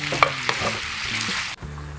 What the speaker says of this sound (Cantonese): 一直兜佢，兜到啲汁收得差唔多嘅時候呢